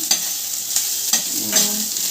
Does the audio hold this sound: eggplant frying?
yes